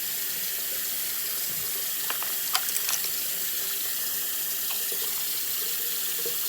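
A makeup brush is wet under a running tap over a sink at home, giving a steady hiss of flowing water with a few small clicks and knocks partway through and no talking.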